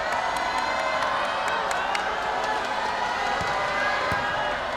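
Arena crowd at a 2019-2020 ASEAN Basketball League game between San Miguel Alab Pilipinas and Singapore Slingers, a steady loud roar of cheering and shouting that fills the whole stretch without letting up.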